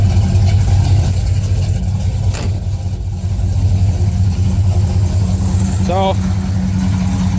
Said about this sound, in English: it's a big block out of a 79, 1 ton, running 2 3/4 inch Hedman headers to 3-inch ball flange connector